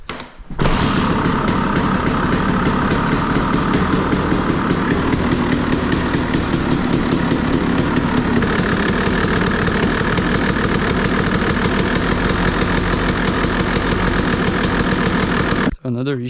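KTM 300 XC two-stroke dirt bike engine catching and running at a steady, loud, rattly idle for about fifteen seconds, close up, before cutting off abruptly.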